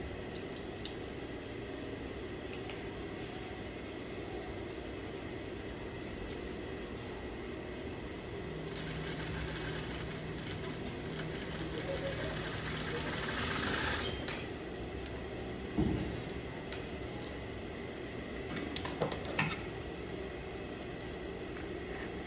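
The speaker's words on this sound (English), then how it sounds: "Back stitching to secure my stitch." Sewing machine back stitching a welt pocket, a steady mechanical whir running continuously with a denser burst partway through, plus a few faint clicks near the end, no talking.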